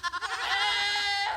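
Baby goats bleating at close range, with one long, loud, wavering bleat following a few short stuttering onsets.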